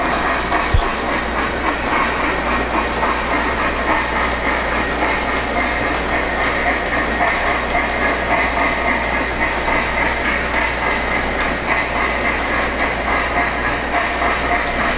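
A Polar Express O-gauge model train pulling new piggyback railcars rolls steadily around the track, giving a continuous close rumble and clatter of wheels and gears with no break.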